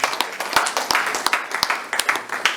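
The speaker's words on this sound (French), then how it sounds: "Applaudissez d'abord pour réchauffer la" Audience applause fills a hall at a Congolese food and culture festival, a dense patter of many hands with sharp individual claps standing out, steady and close throughout.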